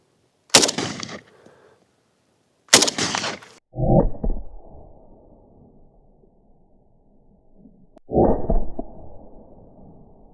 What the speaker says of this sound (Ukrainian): зараз буду стріляти з радянського АКМ по американській плиті